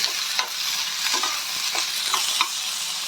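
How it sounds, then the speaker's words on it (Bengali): Ten to fifteen garlic cloves frying in hot oil, a loud continuous sizzle broken by soft stirring scrapes, close up with no talking. "সেটাও আমি দিয়ে দেব এবার দিয়ে এটাকে আমরা ভালো করে একটু ফ্রাই করে নেব"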